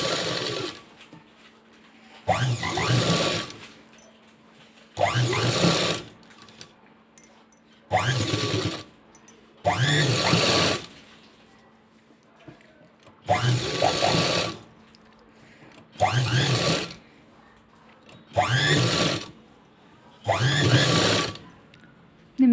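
Sewing machine stitching close beside piping on a blouse, running in regular bursts of a few seconds with brief pauses between, loud and near over a faint background hum.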